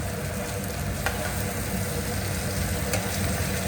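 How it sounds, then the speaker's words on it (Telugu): Drumsticks fry with ginger garlic paste in a pan, giving a steady close sizzle with faint stirring scrapes throughout and no voices. "సో ఇది కూడా మనం అల్లం వెల్లుల్లి పేస్ట్ తోటి వేగనిద్దాము కొంచెం"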